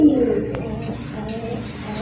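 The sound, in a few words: pigeons cooing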